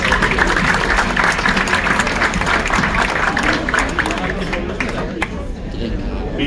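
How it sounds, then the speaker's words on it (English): A cruise ship audience applauds in a dense, sustained wash of clapping that fills the room and fades slightly toward the end, with a faint murmur of voices beneath it. "So we can make a big applause to you."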